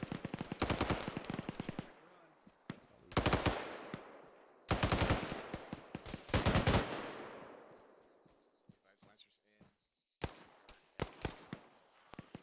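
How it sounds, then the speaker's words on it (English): Suppressing gunfire in a military video game: long rapid machine-gun bursts, loud and close, separated by short pauses and echoing tails, with a few scattered single shots toward the end. "Lay down suppressing fire."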